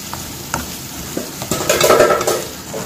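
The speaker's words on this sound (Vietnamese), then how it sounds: "Ngỗng xào lăn đây mọi người." Goose meat is stir-fried in a pot: a loud close sizzle and crackle builds midway, with scraping stirs and light clinks of utensil against metal.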